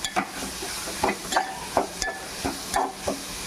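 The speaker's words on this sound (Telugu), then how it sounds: "ఇది కూడా పచ్చివాసన పోయేదాకా ఫ్రై చేసుకుందాం" Ginger, garlic, shallot and coconut paste frying for a mushroom gravy, with a rhythmic series of spatula scrapes and knocks over a continuous close sizzle.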